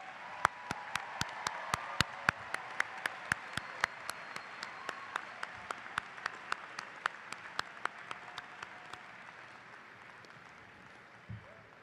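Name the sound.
graduation audience applause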